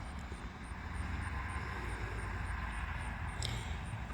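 A drone flies low, about 11 feet, over a cotton field, giving a steady whirring drone throughout with faint high chirps above it, heard alone with no talk.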